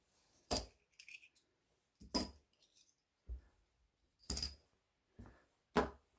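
Metal washers being set down on fabric as pattern weights for sewing a seahorse plush, a few separate clinking taps spaced about a second apart, close and fairly quiet, with silence between them and no voices.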